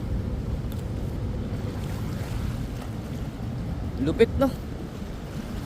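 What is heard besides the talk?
large waves during a storm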